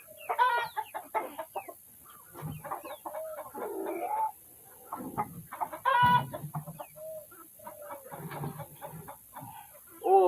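Chickens cluck and squawk close by in a busy, irregular stream of calls, with occasional louder squawks and no talk.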